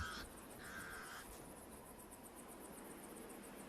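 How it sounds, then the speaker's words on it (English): Faint, distant harsh pied crow alarm calls repeat a few times against a quiet outdoor background with a thin high insect-like buzz. "The pied crows sound the alarm again."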